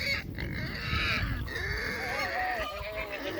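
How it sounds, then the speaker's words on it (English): A big farm pig squeals in one long, continuous, strained cry, loud and close, wavering in pitch for a few seconds. "Squealy pig."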